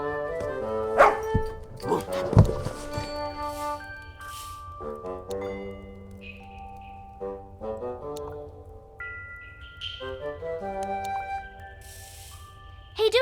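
Dougal the dog barks and yips in The Little Acre, with a few sharp barks and whimpers scattered over a gentle, sustained musical score that continues throughout.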